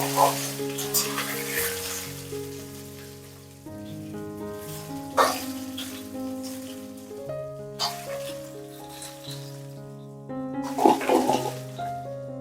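Chopped raw mangoes cook in a pan over a raised gas flame, with a steady close sizzle and bubbling, occasional stirring scrapes, and bursts of louder crackle; no one talks.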